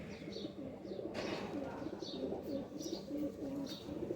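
Flying-breed pigeons in a loft cooing in soft, repeated low phrases, with a few higher chirps scattered over a steady murmur of background noise.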